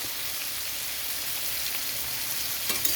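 Ground turmeric, cumin powder and Kashmiri chili powder sizzle steadily in hot oil in a pan, a dense continuous crackle close by with a faint scrape near the end, and no voices.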